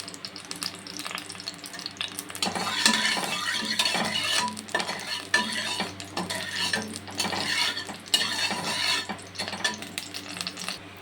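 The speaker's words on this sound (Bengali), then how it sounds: "তেল গরম হয়ে গিয়েছে, এবার জিরেটা ফোড়ন দিয়ে দিলাম আর কাঁচা লঙ্কাটা দিয়ে দিলাম" Cumin seeds and green chilies hit hot oil and crackle into a dense, close sizzle, with steady frying hiss and brief stirring scrapes running to the end.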